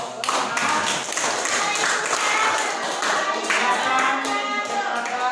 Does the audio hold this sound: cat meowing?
no